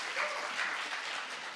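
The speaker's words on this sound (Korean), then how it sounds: "박수 안 칩니까?" Applause from a church congregation at a Sunday gathering, a steady dense patter of clapping lasting under two seconds, moderately loud and without voices over it.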